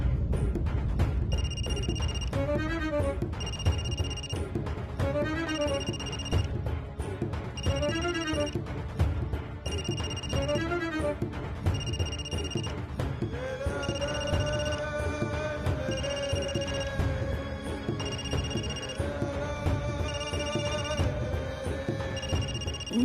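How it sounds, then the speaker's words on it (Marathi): A mobile phone ringtone rings on and on for over twenty seconds in a steady repeating electronic pattern. The melody shifts partway through, and no one speaks over it. "माझा फोन वाजतोय."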